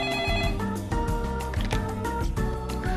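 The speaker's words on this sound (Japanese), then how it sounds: "電話来た。" A telephone rings inside the Winning Post 8 2018 horse-racing management game, a repeating electronic ring over a steady musical game soundtrack, loud and continuous with no talk.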